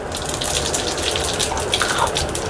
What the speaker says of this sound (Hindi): तेल हो गया है गरम और मैं बना रही हूँ कैरी की सब्ज़ी और इसमें डाल रही हूँ जीरा